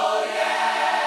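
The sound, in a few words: gospel vocal effects in Logic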